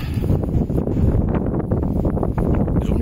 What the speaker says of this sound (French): Bah, le vent il souffle comme ça